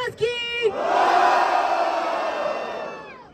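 A crowd at a rap battle in São Paulo's Zona Leste erupts into loud cheering and shouting that swells after a brief voice, holds for about two seconds and then slowly fades.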